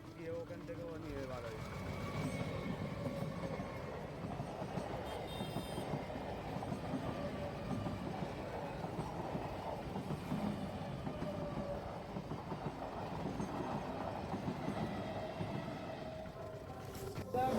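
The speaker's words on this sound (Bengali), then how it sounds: "তো এটা হচ্ছে আমাদের ক্যানিং থেকে শিয়ালদার দিকে ট্রেনটা যাচ্ছে" A suburban passenger train running from Canning toward Sealdah rumbles past as a steady, faint roar of wheels and carriages, continuous and slightly distant, with a brief voice early on.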